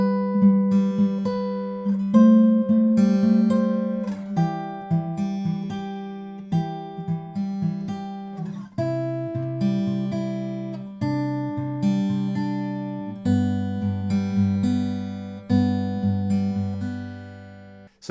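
Fingerpicked acoustic guitar playing a song's intro, a steady flow of plucked notes over low bass strings, close and clear with no voices, running continuously through the passage.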